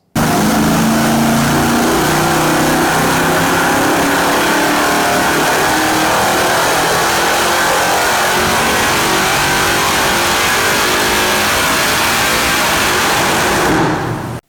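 Modified 5.3 liter V8 with a factory truck intake revving hard on a dyno, a loud continuous roar that holds near full throttle for about fourteen seconds before cutting off abruptly.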